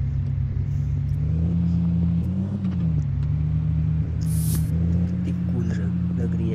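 A Scorpio SUV engine in Indian Car Simulator 3D drones steadily at low pitch while driving, its note rising and dipping slightly with throttle, with a voice talking over it throughout.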